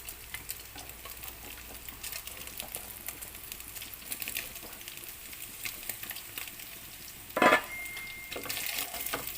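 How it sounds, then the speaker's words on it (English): Sausage fries in a pan with browned beef for Filipino beef afritada, giving a soft, steady sizzle with occasional stirring scrapes and a brief louder clatter, heard alone without talk. "And then just cook this sausage for another 2 minutes."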